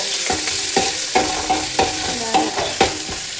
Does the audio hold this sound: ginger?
yes